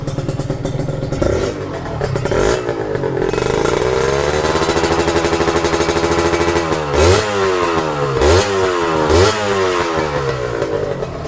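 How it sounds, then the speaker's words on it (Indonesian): Cheap used automatic scooter with a rattling exhaust, running after an electric hand start, a close steady engine drone with a few sharp revs that rise and fall near the end. "Halus, mesinnya halus pol."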